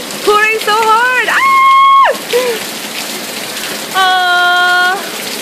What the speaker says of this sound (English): Oh, it's raining so hard. Oh my god. Pouring so hard.